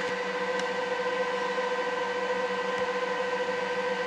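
A computer server running updates gives off a steady machine hum with constant tonal whine lines and broadband fan-like noise, even and unbroken throughout, with no speech.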